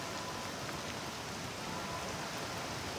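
Steady rain falls at a sanctuary along the Camino Portugués Central, a soft, even hiss throughout with no distinct drops or voices.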